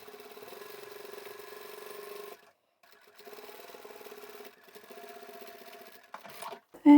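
A sewing machine does decorative top stitching on a small craft tote bag, running in steady rapid bursts with short pauses between runs, followed by a few clicks and handling noises.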